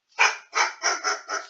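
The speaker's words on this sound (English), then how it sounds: "Sorry, that's my dog." A dog barks five times in a quick, even rhythm, sharp and close by, with short gaps between the barks.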